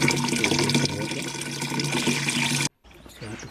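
Water splashes and pours onto a seedling nursery bed prepared for kales, spinach and cabbage, a close, continuous watery rush that cuts off briefly near the end before softer trickling resumes.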